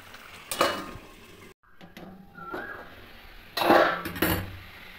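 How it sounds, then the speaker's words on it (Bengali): A lid is lifted and set down on a pan of spicy prawns cooking with green chillies, giving a few sharp metallic clanks and clinks between quiet stretches with faint sizzling underneath. "ঢাকনাটা খুলে চিংড়ি মাছগুলো একটু উল্টে দেব"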